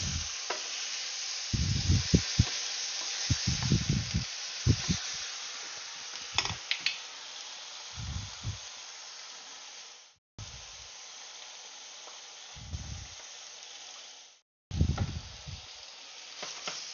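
Onions fry in a pan with a steady broad sizzle and hiss, broken by repeated scraping and stirring strokes from a soft utensil, close and fairly quiet, with no talking.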